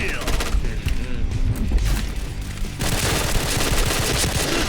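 Rapid automatic gunfire comes from a gun in the online shooter game PB, with dense bursts of shots that continue through the clip while a voice talks over them.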